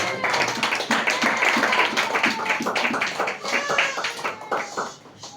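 A church congregation claps in acclaim of the Lord, with dense, continuous hand claps and scattered voices filling the room for several seconds.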